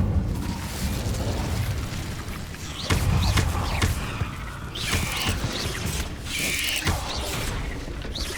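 The Incendio fire spell in Hogwarts Legacy, cast during a fight with giant spiders. It comes as repeated whooshing bursts and crackling blasts over a rumbling, busy combat bed, with no talk.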